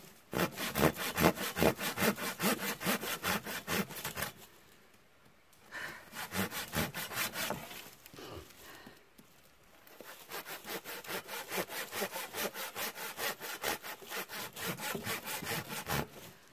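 Firewood being sawn in steady, rapid back-and-forth strokes, loud and close, with a short pause near the start and another midway before the rhythmic cutting resumes.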